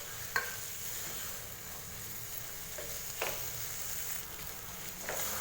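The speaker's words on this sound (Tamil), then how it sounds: "மிக்ஸ் பண்ணிவிட்டு ஹை ஃப்ளேம்லேயே இது 1 நிமிஷம் நல்லா வதக்கி விட்டுருங்க." Goat intestine curry sautéing over a high flame, a steady broadband sizzle with a few sharp stir or scrape clicks spread across the stretch, no voices.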